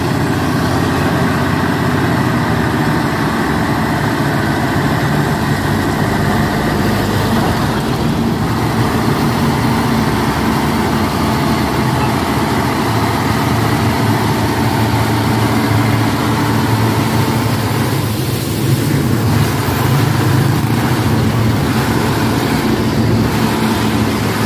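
A trailer truck's heavy diesel engine labors slowly up a slope, a loud, continuous low rumble and drone that holds steady throughout without a break.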